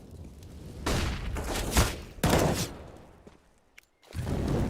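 Bursts of gunfire in a Counter-Strike match, loud close volleys in two main clusters with heavy low thumps, a short silent gap, then firing picks up again at the end.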